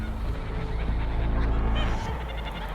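Geese on a German farm honking over a steady low rumble of the flock, several loud nasal calls overlapping near the microphone.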